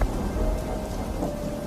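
Heavy rain pours down steadily as thunder rumbles low and close, a dense unbroken wash of rainfall lasting under two seconds with no voices.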